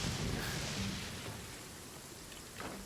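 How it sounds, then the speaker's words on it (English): Rain in the video game Genshin Impact, a steady, dense hiss of falling rain with soft low rumbling underneath, continuous and moderately loud, without talk. "Oh, it's raining again."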